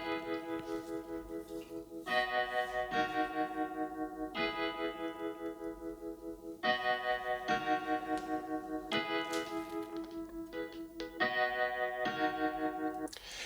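A wavy synth patch from the Serum plugin plays repeated sustained chord phrases, rich in harmonics, with short gaps between stabs, moderately loud and with no voices.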